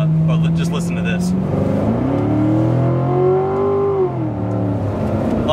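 A Corvette C7 Stingray Z51 V8 with an 8-speed automatic revs hard and steadily, its pitch climbing and then dropping back, loud and close throughout, with light voices at the start.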